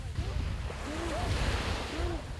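Sea waves washing steadily along the shore, a continuous rumbling surf with wind, with faint birdlike calls and distant voices over it.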